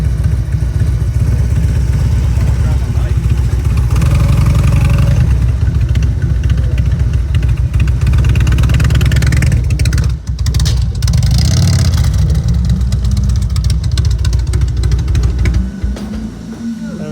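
Motorcycle riding through Biketoberfest at Daytona Beach, with a loud, steady engine drone held close throughout and a brief dip near the end.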